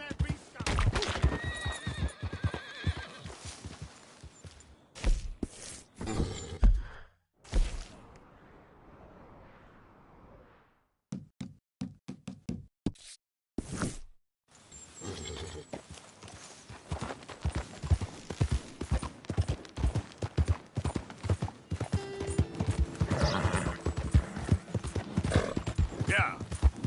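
Horse hooves clip-clop at pace in Red Dead Redemption 2, with loud neighs and whinnies, gunfire-like bursts and game noise, plus a character's voice speaking over the action.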